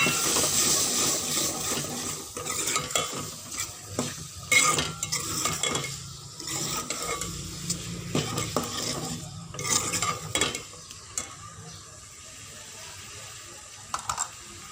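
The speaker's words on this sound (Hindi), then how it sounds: "मिक्स करेंगे इनको अच्छी तरह।" A spoon stirs potatoes into a curry for aloo anday salan in a pan, with repeated scraping and clinking against the metal and a soft sizzle underneath, steady for several seconds and then quieter toward the end.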